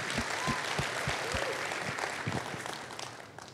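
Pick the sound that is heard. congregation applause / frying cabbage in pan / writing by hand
congregation applause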